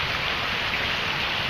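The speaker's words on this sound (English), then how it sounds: "It has been pouring like this ever since 2 o'clock." Heavy pouring rain on an afternoon in a Mesa, Arizona park neighbourhood, a dense, steady roar of downpour without pause and no voices.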